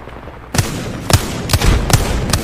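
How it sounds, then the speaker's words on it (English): Gunfire and explosive blasts crack out in an Apex Legends match, a loud series of about five sharp bangs at a quick, uneven pace over a dense, rumbling battle noise. "Grenade out."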